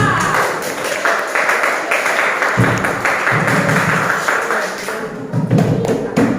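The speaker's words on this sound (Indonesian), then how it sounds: "Tepuk tangan untuk kelompok 2" Classroom applause for a small student group about to present during a teaching-practice session, a dense burst of clapping with a few heavier taps and thumps, steady across the whole stretch and fairly close.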